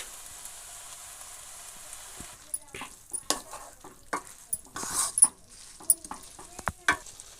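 Ground cashew and coconut paste goes into bitter gourd frying in a pan, giving a quiet sizzle with soft stirring scrapes and a few clinks that grow busier after the first couple of seconds.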